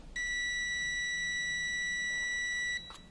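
A continuity tester clipped to car hazard and turn signal wiring gives one steady, high-pitched electronic beep that holds for over two seconds, close and clear, then cuts off.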